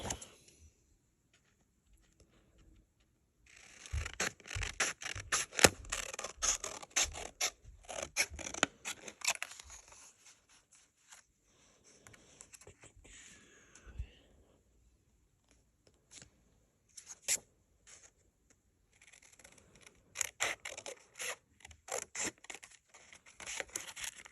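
Scissors snipping paper to cut out pieces for an October book-themed journal spread, close and crisp, in quick bursts of rapid cuts separated by pauses and light paper rustling.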